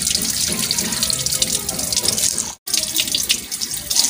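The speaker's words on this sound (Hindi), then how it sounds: "ये दाल को हम ज़रा अच्छी तरह से एक तो वाश करके उसका पानी गिरा देंगे" Lentils being rinsed under a running kitchen tap, a steady, close splash of water into a sink with a brief cut in the flow partway through.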